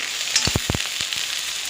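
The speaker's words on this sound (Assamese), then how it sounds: "আপোনালোকেও দালিখিনি এনেকৈ ভাজি পিনি" Oil sizzles steadily in a pan of frying lentils, with a few soft scraping stirs breaking through the constant hiss.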